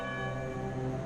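A church bell rings with a sustained, rich tone full of steady overtones, loud and continuous for the whole short moment, with no voices.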